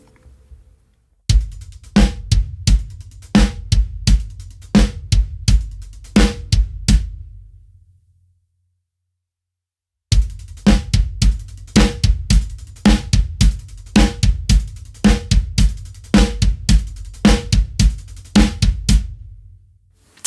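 A beginner drum groove plays on a kit: closed hi-hat triplets over a snare backbeat with added kick drum notes, played loud and close in two runs separated by several seconds of silence.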